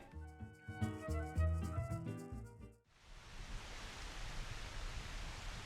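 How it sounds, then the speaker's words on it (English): Steady rain in Final Fantasy XIV hisses on after music cuts out abruptly, a dense, even wash of falling water with no voices. "Oh, it's raining here too."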